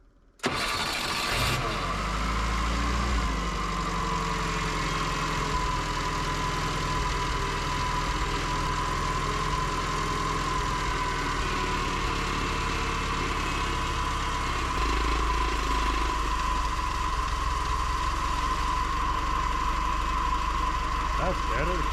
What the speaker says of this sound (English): this thing was kind of idling high yesterday, so let's just turn the idle down on it.